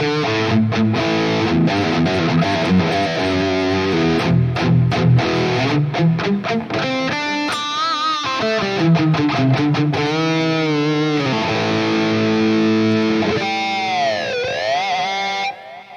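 Electric guitar played through a Neural DSP Quad Cortex running a Friedman amp model, loud distorted chords and single-note runs with effects, heard alone without talking.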